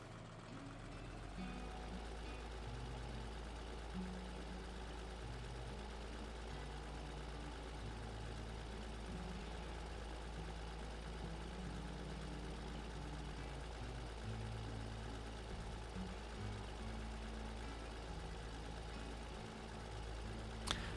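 Tractor engine in Farming Simulator 16 rumbles steadily for the whole stretch, a loud low drone with shifting load tones and no talk over it.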